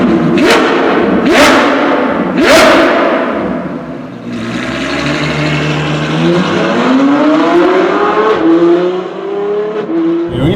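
A Novitec Ferrari F12 N-Largo R supercar pulls away with a loud, revving engine note, rising through a throttle blip with a few heavy low thumps at the start, up close and with no talking.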